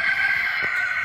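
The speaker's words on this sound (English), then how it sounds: "there's a chicken" A chicken gives a short, sustained crowing call, heard up close and alone without any talk.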